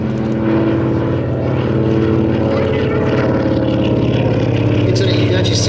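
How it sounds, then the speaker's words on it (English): A Lockheed 12A Electra Junior propeller aeroplane drones past at an airshow at Sywell, a loud sustained engine and propeller roar with rich low harmonics, the pitch shifting slightly as it goes by. "That is a beautiful aeroplane."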